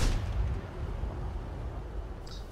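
A tank cannon firing a high-explosive shell in World of Tanks: one heavy, booming blast at the very start that rolls into a long, low rumbling decay, with a faint sharp click near the end.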